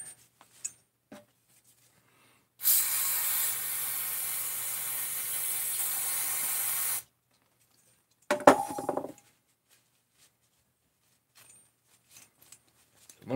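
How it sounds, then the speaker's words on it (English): Aerosol cans of brake cleaner and WD-40 spray in a long steady hiss of about four seconds, close and fairly loud, followed after a pause by a shorter burst with a clink, in an otherwise quiet workshop. "A little more brake cleaner, and then a little more WD-40."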